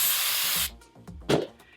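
Hairspray jets in a loud, close continuous hiss onto a rolled wig curl for under a second, followed by a second short, sharp burst.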